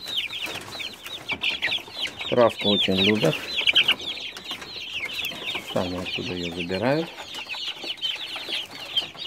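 Young chickens cheep and cluck continuously up close, a busy flock of high chirps bathing in sand, while someone talks over them at intervals.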